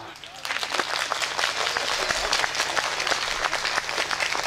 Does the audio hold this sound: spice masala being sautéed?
no